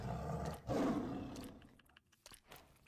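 A video game tiger, fed raw chicken, lets out a loud roar that swells and fades, followed by a few faint crunchy chewing bites.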